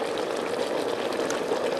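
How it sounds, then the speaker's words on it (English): Water boiling in a kettle during a chemistry lecture demonstration makes a steady, moderately loud churning rumble and hiss that holds even throughout, with no talking. "the water's boiling"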